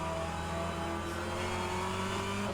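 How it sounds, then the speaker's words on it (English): Race car engine in the rFactor 2 simulator, revving steadily and loudly at close range with a sustained rising drone, with no talk. "I'm not sure if that's just the slightly different engine sounds giving me a placebo effect"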